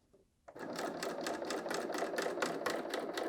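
A BERNINA L 890 sewing machine stitches a shoulder seam on a woven top, starting abruptly after a quiet moment and then running in a fast, even, rhythmic chatter close by.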